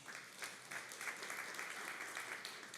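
Church congregation applauding during a sermon, a steady, moderately distant patter of many hands clapping that holds evenly for several seconds, with no voices over it.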